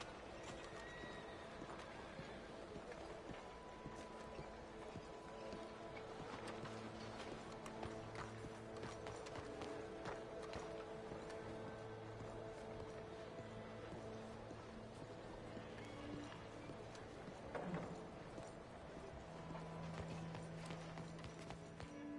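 Horse hooves clip-clopping steadily in a PS4 video game set in frontier country, a continuous moderate trot under game music and ambient sound, with a brief neigh-like accent near the end.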